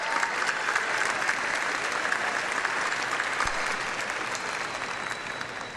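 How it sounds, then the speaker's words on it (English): A graduation audience applauds a retiring teacher, with loud, dense, continuous clapping from a large crowd that holds steady and fades only slightly toward the end. "you deserve a big round of applause"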